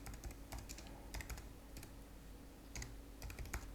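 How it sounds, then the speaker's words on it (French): Typing on a computer keyboard while entering text in a design tool, with irregular clusters of quiet, close key clicks and a steady low background hum, no voices. "Et là, vous pouvez taper le texte que vous voulez."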